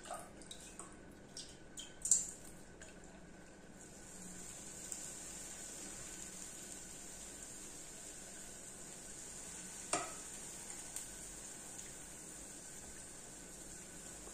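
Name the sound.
pouring cooled syrup over hot kalb el louz pastry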